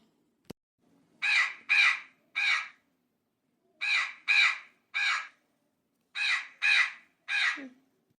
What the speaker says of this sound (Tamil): இந்த வடகத்தை ஃபுல்லாக தின்னு தீக்கிறதுக்கு காக்கா பூரா வந்துருச்சு பாரு